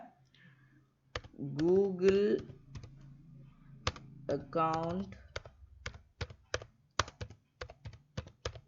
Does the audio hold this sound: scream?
no